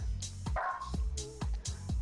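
Puppies barking repeatedly in a steady rhythm of short woofs and yips, fairly near, with a faint whimpering tone between barks and a low background hum.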